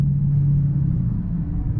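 Dodge SRT Hellcat exhaust droning while driving: a steady, low, continuous rumble that holds an even level throughout, with no voices.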